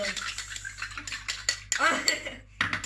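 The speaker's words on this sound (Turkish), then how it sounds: "Çorba karıştırıyoruz." A spoon clinks and scrapes inside a cup while stirring a mix of assorted drinks, with irregular rattling strokes and brief pauses, close up under faint background voices.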